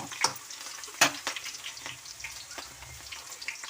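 Garlic, curry leaves and cumin sizzle in hot oil, a steady crackling fry with a few sharper pops and spatters, close and moderately quiet, with no talking.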